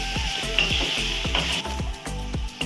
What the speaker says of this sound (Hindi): आलू को हल्का सा फ्राई करेंगे।